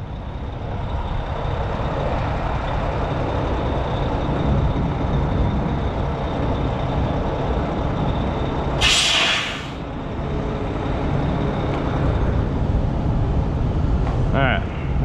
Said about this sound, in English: Go ahead and set your brake.